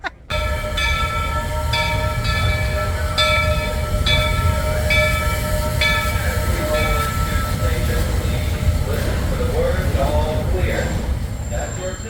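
Steam train whistle at a theme park sounds a long steady multi-tone blast over rumbling crowd and ambient noise, with voices murmuring throughout.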